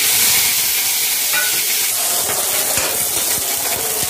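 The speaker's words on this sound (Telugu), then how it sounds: "కొంచెం నూనె వేసుకొని పచ్చిమిరపకాయలు పెట్టుకున్నాను, లేకపోతే తుల్లిపోతాయి." Green chilies frying in a little oil in a pan while making peanut chutney for dosas, a steady, close crackling sizzle with scattered sharp pops and no talk.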